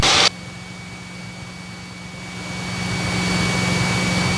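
Steady drone of a light aircraft engine, a Piper Warrior on final approach to runway 23, a constant hum with a faint tonal whine that swells slightly louder toward the end, with no talking.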